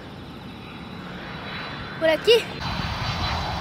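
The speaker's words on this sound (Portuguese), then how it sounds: "Tem até um avião aqui, ó," Airplane passing overhead near an airport by a fishing spot on a windy day, a steady broad engine rumble under gusting wind noise while a person talks briefly nearby.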